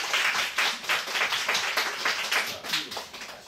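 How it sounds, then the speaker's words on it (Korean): Church congregation at a Sunday worship service clapping together in a brisk, sustained round of applause with a steady rhythm and no talk over it. "일단 박수 쳐주세요."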